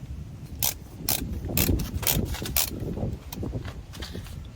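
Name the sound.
torque wrench tightening Jeep steering stabilizer bolts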